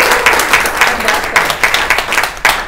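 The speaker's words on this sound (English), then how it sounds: "A round of applause to them." A room of attendees at an annual general meeting breaks into applause for newly elected committee members, a loud, uneven burst of many hands clapping with sharper individual claps standing out.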